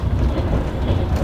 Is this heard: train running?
yes